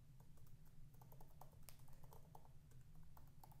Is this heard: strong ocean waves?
no